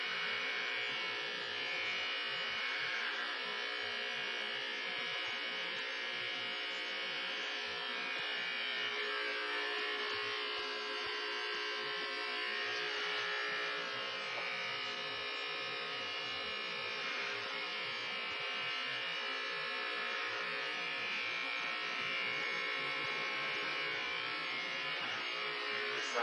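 Electric hair clippers buzzing steadily at a barbershop, a continuous thin, faint whine holding for the full stretch with no talk over it.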